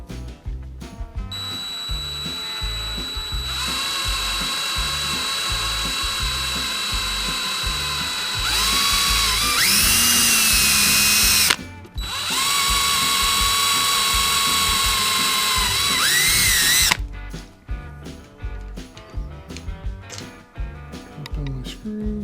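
Power drill driving number 6 screws into pre-drilled holes on a kayak: a sustained, loud motor whine with rising pitch, one long run briefly broken, then a second run, with clicks and handling noise at the start and end.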